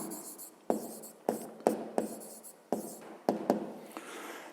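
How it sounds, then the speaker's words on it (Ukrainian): Pen strokes scratching across paper as a maths solution is written out, a steady rasp broken into short bursts with small taps between lines, close and fairly quiet with no voices. "Записуємо тоді розв'язання. Пишемо маємо."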